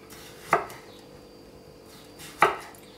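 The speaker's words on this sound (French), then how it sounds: "Ici j'ai une courgette. On va couper des fines lamelles." A knife cuts a zucchini into thin slices on a board, two sharp, separate chops about two seconds apart over quiet background noise, with no talking.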